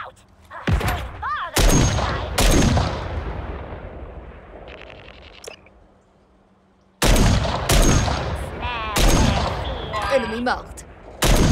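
Heavy gunfire and explosive blasts in the Call of Duty video game, loud bursts of shots with a lull in the middle before renewed firing, with brief radio-style voice callouts over it.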